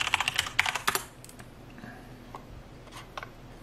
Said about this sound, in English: We need to type in our password to authenticate it.